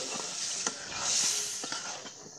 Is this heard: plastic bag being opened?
no